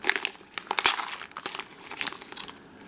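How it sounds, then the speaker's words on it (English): Crinkly plastic packaging around a Mini Brands MasterChef toy recipe card is crumpled and torn open close by, in quick irregular crackling bursts. "Let's open, I guess it's in here, the recipe card."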